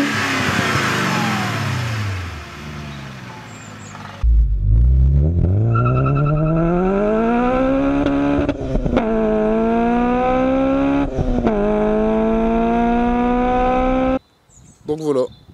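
A German BMW 4.0-litre V8 revs up hard and then holds a loud, steady high rev with brief dips, close by. Rough noise and a voice come before it, and it ends abruptly.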